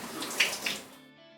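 A brief rush of running water while rinsing shampoo out of hair, close and splashy, then cutting off abruptly after about a second.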